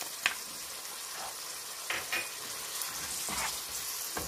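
Chicken liver seasoned with cumin, lemon juice, coriander and parsley sizzles in a pan, a steady close crackle broken by a few sharper pops.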